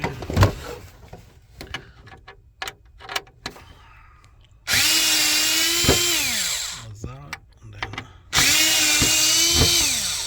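A cordless driver spins Torx T15 screws out of a BMW X3 glove box: two loud, close whirring bursts with a rising then falling whine, preceded by scattered clicks and handling knocks.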